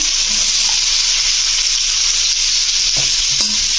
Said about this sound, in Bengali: পেঁয়াজ কুচিটাকে একটু ভাজা ভাজা করে নেব